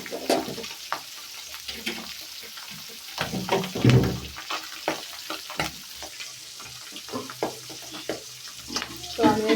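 Pabda fish frying in hot oil in a village kitchen, a steady low sizzle broken by frequent clattering knocks and scrapes of a spatula, with a few louder bumps near the middle.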